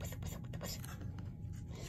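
A voice imitates a rotating lawn sprinkler with a steady breathy, scratchy hiss that runs continuously and close for under two seconds, with no other sounds around it.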